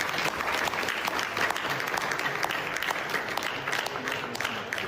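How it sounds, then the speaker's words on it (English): Clapping from a small group, a steady patter of hands at moderate level carrying on for several seconds without any talk over it. "I don't want to hear the clapping."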